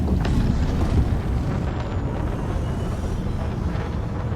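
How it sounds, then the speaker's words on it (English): Spaceship engines roar steadily just after launch in the space game Elite, a loud, continuous rumbling drone with a whooshing wind-like texture and no break throughout. "Ship released. Engines engaged."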